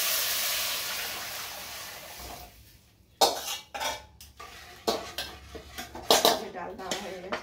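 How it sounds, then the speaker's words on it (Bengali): Dal tipped into a pot of fried onions and stirred, a soft hiss giving way to several sharp metallic clanks and scrapes of a utensil against the pot, close and irregular. "এই যে আমার পেঁয়াজ ভাজা হয়ে গেছে, এই ডালটা দিয়ে দিলাম।"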